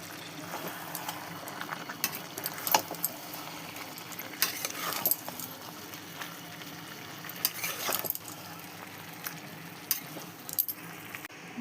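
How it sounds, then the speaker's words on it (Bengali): Meat and potatoes being sautéed in a pan, a steady soft sizzle with scattered scraping and clinking from stirring, close and moderately quiet, with no talking. "আলুগুলোকেও কষিয়ে নেব।"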